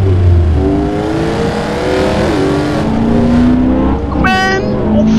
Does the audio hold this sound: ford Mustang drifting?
yes